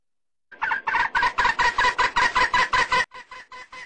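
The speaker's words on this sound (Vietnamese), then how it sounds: "Đây là gà mái rừng các bạn nhé." A wild jungle hen gives a rapid series of about a dozen loud, evenly spaced clucking calls at close range, then a few softer calls trail off after a short break, with no other sounds.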